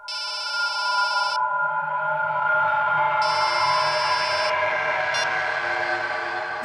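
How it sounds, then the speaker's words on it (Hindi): A mobile phone ringtone plays in two bursts of electronic tones with a pause between, over a loud, steady background of continuous music or drama underscore, with a brief third chirp near the end. "मैडम आपका फोन बज रहा है।"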